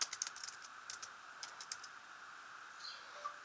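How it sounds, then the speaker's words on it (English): Light, fast typing on a computer keyboard, a quiet run of small clicks in bursts with short pauses, close and without speech. "now all you gotta do is type in"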